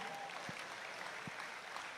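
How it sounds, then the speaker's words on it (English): Broad, steady wash of applause from a crowd at the Ohio State Fair Sale of Champions, sustained throughout, with a couple of faint low thumps beneath it. "a round of applause for All-Ohio Youth Band"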